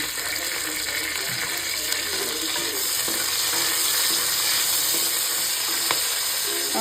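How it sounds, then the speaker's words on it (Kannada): Curry leaves fry in hot oil for okra sambar, giving a steady, dense sizzle with occasional sharp pops and crackles, close up and without speech. "ಕರಿಬೇವಿನ ಸೊಪ್ಪನ್ನು ಹಾಕ್ತಾಯಿದ್ದೀನಿ"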